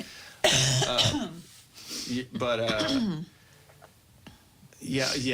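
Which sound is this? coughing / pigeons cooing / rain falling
coughing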